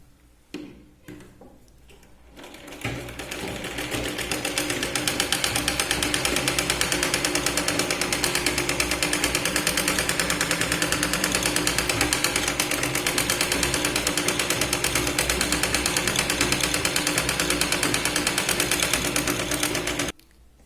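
A sewing machine runs steadily for a long continuous stretch, stitching a blouse lining, loud and close after a few brief starts, with no voices.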